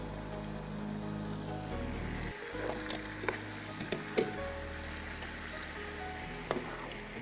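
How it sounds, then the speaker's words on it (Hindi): Potato pieces frying in a pan of hot oil, a steady close sizzle holding throughout with a few brief clinks and stirring knocks scattered across it. "फ्राई आलू फ्राई हो रहे हैं"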